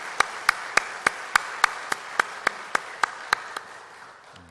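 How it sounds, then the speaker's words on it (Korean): During a Sunday worship service, applause for Sunday school teachers comes as a slow, regular run of about fourteen sharp unison claps, evenly spaced and gradually fading at the end. "우리 선생님들에게 큰 박수로 격려해 주시면"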